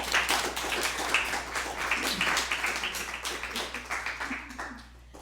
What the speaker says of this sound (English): we'll give you a big round of applause